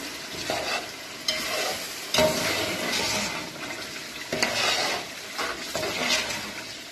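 Chickpeas frying in a pan, a continuous crackling sizzle with repeated rushing scrapes as they are stirred in bursts, close and fairly loud, without talking.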